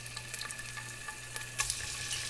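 Chicken breast sizzles steadily in a pan that already held cooked meat, with a constant frying hiss and a few small pops and clinks, close and fairly quiet.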